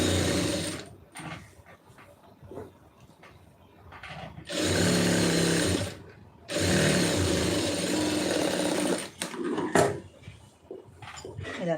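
A sewing machine runs stitching around the edge of fabric for a neat finish, with two sustained loud bursts of whirring, rattling mechanism broken by short pauses and lighter handling noises.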